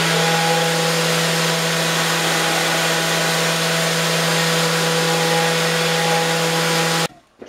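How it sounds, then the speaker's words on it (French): Power sander working a cherry wood kitchen cabinet door, a steady loud whir with a constant hum running unbroken for about seven seconds before cutting off abruptly. "Je ponce le tout, en fait,"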